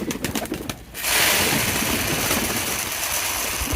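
Pigeons on a farm waiting to be fed, with low cooing in the first second, then a louder broad rushing noise that takes over and covers the birds for the rest.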